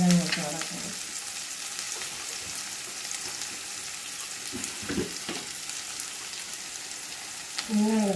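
Onion and garlic fry in a pan with a steady, moderately quiet sizzle, light stirring scrapes and brief bursts of clatter near the start and end.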